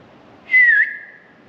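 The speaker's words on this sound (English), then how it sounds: "Can you copy my whistle?" A person whistles one clear rising-then-falling note inside an old castle, loud and close, trailing off into a softer sustained tone with no talking.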